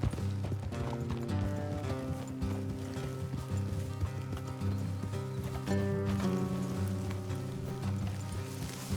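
Horses gallop in Red Dead Redemption 2, a steady rhythmic clip-clop of hooves moving fast along a road, with a continuous musical score underneath and no talk.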